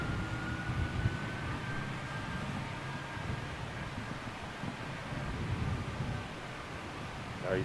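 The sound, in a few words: Emirates A380 airliner approaching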